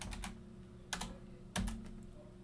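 Computer keyboard typing while entering a router ID on a Cisco router configuration console, heard as short bursts of near, crisp keystrokes with a few brief pauses, no voices.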